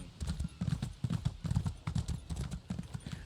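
Horse hooves clip-clop in a brisk, even rhythm in the video game ESO, the clear repeated footfalls standing out close and alone.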